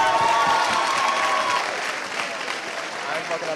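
A student audience applauds at a spoken word performance event, a loud, dense burst of clapping and crowd noise that softens slightly toward the end.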